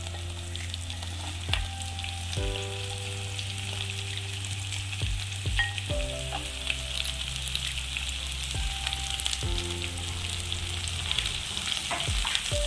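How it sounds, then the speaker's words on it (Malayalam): Chopped onion goes into garlic and ginger already frying in hot oil for a masala curry, giving a loud, steady sizzle with intermittent stirring and scraping clatter throughout, and no talk. "വെളുത്തുള്ളി ഇഞ്ചിയൊക്കെ നന്നായിട്ട് മൂത്തിട്ടുണ്ട് നമുക്ക് സവാള ചേർത്ത് കൊടുക്കാം"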